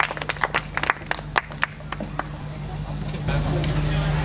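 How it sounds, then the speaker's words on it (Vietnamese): An audience applauds the Dang Thao Ensemble with scattered, crisp claps that fade out, followed by a rising wash of broader room noise, while a voice speaks over the clapping. "Xin quý vị một tràng pháo tay thật lớn cho ban nhạc Đăng Thảo"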